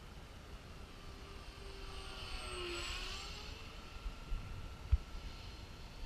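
An RC Honda Jet model aircraft flies past at a distance, its faint jet whine rising and then falling as it passes overhead, with a few soft thumps near the end and no talking.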